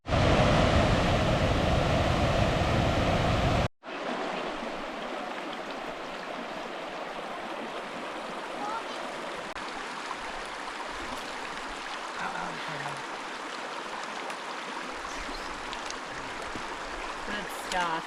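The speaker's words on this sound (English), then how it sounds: "Beautiful cascades along Yellow Belly Creek." Water rushing down cascades along Yellow Belly Creek in the Sawtooth mountains, a steady broadband roar, loud at first, then a slightly softer continuous flow after a brief cut, with faint outdoor ambience.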